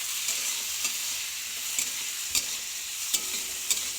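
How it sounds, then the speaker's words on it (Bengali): Carrots crackle and sizzle in a hot wok, a steady hiss broken by a few sharp pops and stirring scrapes. "গাজরটা দিয়ে দিচ্ছে কড়াইতে এগুলো সব কিছুতেই কড়কড় করে আওয়াজ হয়"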